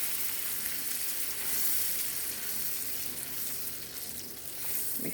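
Food sizzles and fries steadily in a pan while being stirred, a constant crackling hiss at moderate distance with soft scraping movements and no voices.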